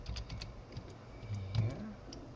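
Light clicking keystrokes on a computer keyboard, an irregular patter of quick taps, close and quiet with no talking.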